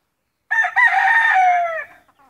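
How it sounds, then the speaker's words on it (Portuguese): Rooster crowing once, loud and close in a farmyard with free-roaming hens, a single strained cock-a-doodle-doo lasting about a second and a half after a brief silence. "as galinhas que eu soltei aqui"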